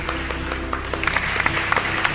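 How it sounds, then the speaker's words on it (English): A school audience claps for parents, grandparents and family members: a steady patter of many hands in a room, moderately loud with sharper individual claps standing out, and no talking over it. "clap loudly for all the parents and grandparents and family members watching this presentation"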